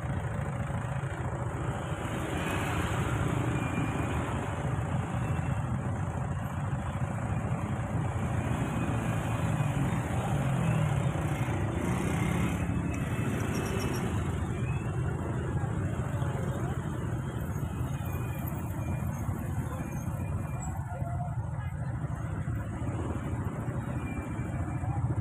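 Steady roar of a morning traffic jam in Malang, cars and motorcycles idling and creeping along a congested road, a continuous dense engine rumble with passing vehicles throughout.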